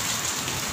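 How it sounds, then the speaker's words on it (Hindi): Heavy rain mixed with large hailstones pours down in a dense, loud, steady hiss with no pause. "बहुत तेज़ बारिश है, बहुत मोटे मोटे ओले बरस रहे हैं।"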